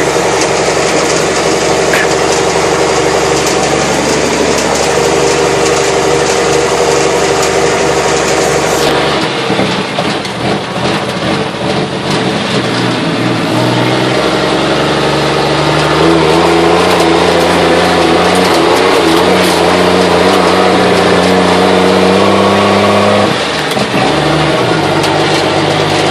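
A cold military truck engine runs steadily throughout, a loud close rumble that shifts pitch as it revs and moves off, with rising and falling engine tones toward the end.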